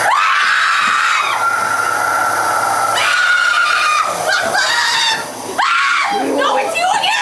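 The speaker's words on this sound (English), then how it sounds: "mine was to scream my head off" A person screams loudly and repeatedly inside a haunted house attraction, shrill sustained shrieks broken by brief pauses, with other voices and scare effects mixed in.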